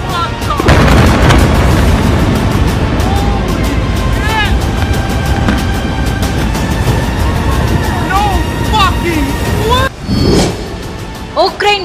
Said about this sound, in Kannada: ಉಕ್ರೇನ್ ಪೆಟ್ರೋಲ್ ಬಂಕ್ಗಳ ಸ್ಫೋಟ